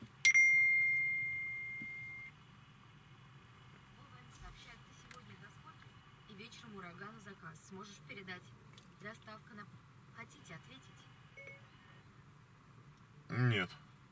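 A bright notification chime for an incoming message sounds from a 10-inch vomi FX343R1 head unit running CarPlay in a Skoda Octavia A7, one clear ringing tone that fades over two seconds before someone talks inside the car.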